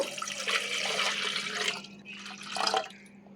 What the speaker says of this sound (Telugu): ఈ గ్లాస్ రవ్వ తీసుకుంటాను కాబట్టి దీనికి ఒకటిన్నర గ్లాస్ అయితే నీళ్ళు వేస్తున్నాను